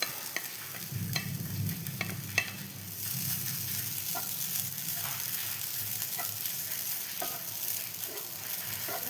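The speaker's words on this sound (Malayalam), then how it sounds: "ഇനി നമുക്ക് തേങ്ങ ഇട്ട് കൊടുത്തിട്ട് ഇതേപോലെ തേങ്ങയും വറുത്തെടുക്കണം" Grated coconut roasting in a pan makes a dry, hissing sizzle with intermittent spatula scrapes and taps, while a low rumble in the first few seconds fades out.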